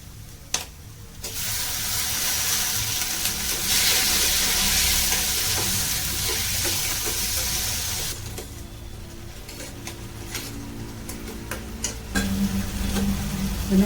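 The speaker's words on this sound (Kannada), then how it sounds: "ಈರುಳ್ಳಿ ಹಾಕಿ ಫ್ರೈ ಮಾಡ್ಕೊ ಟೊಮೊಟೊ ಹಣ್ಣು ಹಾಕ್ತಿದ್ದೀನಿ" Onions and tomatoes fry in a pan for moong dal, a steady loud sizzle with scraping stirs of a spoon, then a quieter stretch of clinks and scrapes before the hiss swells again.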